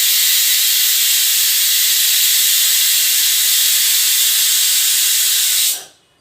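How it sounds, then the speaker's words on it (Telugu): A pressure cooker of mutton curry releases steam in a loud, steady hiss after the stove is turned off, holding for several seconds, then cutting off abruptly into near silence. "ఒక కాసేపు ఉంచాలండి ఆవిరి పోయేంత వరకు ఉంచుకొని"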